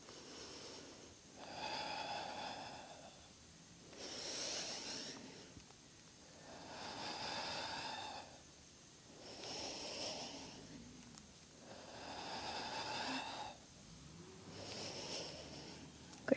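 Slow, deep yoga breathing alternates steady inhales and exhales with a faint wheezy, nasal hiss, about six long breaths in a regular rhythm, close to the listener and quiet.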